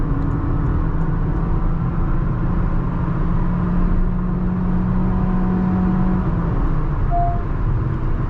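A Honda Elevate with a CVT gearbox being driven and maneuvered, giving a steady, close engine and road drone from inside the car with faint whirring tones and no talking.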